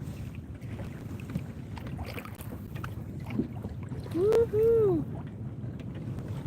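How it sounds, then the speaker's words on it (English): Steady wind buffeting the microphone while kayaking on open water, a low continuous rumble, broken near the end by a short excited whoop from a woman. "it's very windy out here"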